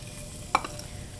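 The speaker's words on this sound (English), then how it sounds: "Then to the butter, we're gonna add some julienne white onion" Julienned white onion hits whole butter in a hot pan, giving a soft, steady sizzle with one brief clatter partway through and no talking.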